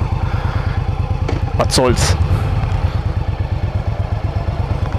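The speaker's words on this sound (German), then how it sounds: "Klingt jetzt nicht so wie so ein luftgekühlter Motor" Indian Scout 1200 motorcycle engine idling steadily up close, a regular low throbbing pulse that runs the whole time, with a brief rev in the middle and someone speaking over it.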